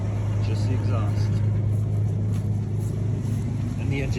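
Close, steady idle of a 1987 GMC S15 pickup running without its catalytic converter, a low constant exhaust drone with no revving throughout.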